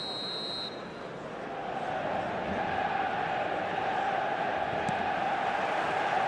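Steady stadium crowd roar from the eFootball 2026 video game, a dense continuous wash of cheering held at moderate level throughout, with a brief electronic tone at the very start.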